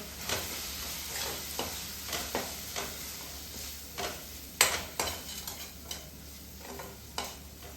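Spinach curry with chilli powder and garam masala is stirred in a pan, a series of about a dozen soft scraping strokes at a loose rhythm over a faint sizzle, close and quiet, no voices.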